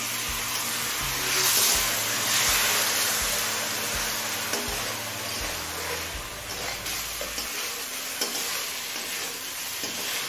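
Bhola fish cooking with mustard-poppy seed paste in a pan over high flame, giving a steady close sizzle with repeated scraping strokes of a spatula, with no talking.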